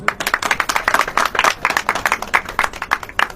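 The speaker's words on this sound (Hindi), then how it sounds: "ताली बजाओ।" A church congregation claps in a quick, steady rhythm, many hands striking together in sharp, close bursts with no voices on top.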